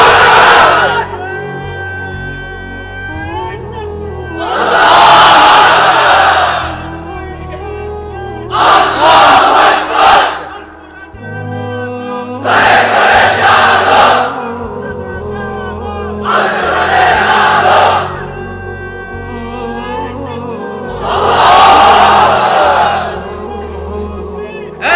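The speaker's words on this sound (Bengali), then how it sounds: "এবার অবিবাহিতরা দাও লিল্লাহি তাকবীর" A crowd of unmarried men roars the Lillahi Takbir chant in several loud, sustained group shouts, each burst separated by brief pauses, close and full-throated.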